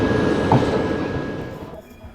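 Jan Shatabdi Express hauled by a WAP-7 electric locomotive at Dabhoi Junction, rolling close by with a loud steady rumble and a brief clank before the noise fades away near the end.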